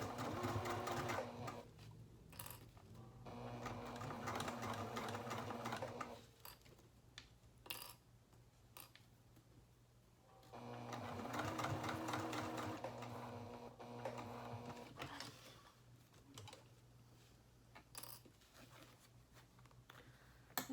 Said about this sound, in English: we will be stitching approximately 3/8 of an inch seam allowance. And again, we will be back stitching.